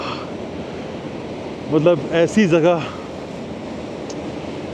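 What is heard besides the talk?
Bhagirathi river water rushing down, Uttarakhand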